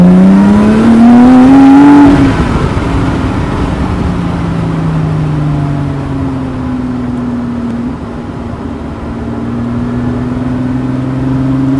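Supercharged sports car accelerating hard, its engine note rising in a loud whining surge, then easing off into a steady lower drone as it slows, heard from inside the car with no talk.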